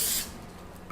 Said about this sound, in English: Get a pie dish or any baking tray that you have and spray, or you can oil.